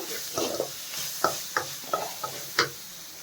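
A spoon stirs cooked rice into a capsicum mixture in a pan, giving a series of sharp scraping knocks at an irregular rhythm over a faint sizzle, close up and without talk.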